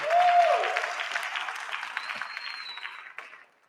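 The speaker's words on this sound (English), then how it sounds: "Give her a round of applause." A church congregation applauds Dr. Rhodes with a short burst of clapping that starts loud and tapers off over a few seconds, with a few faint tones and murmurs underneath.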